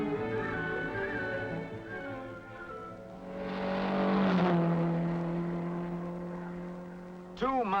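A 1958 MGA Twin Cam sports car engine hums steadily with a rising and falling tone, faintly, under a narrator's voice.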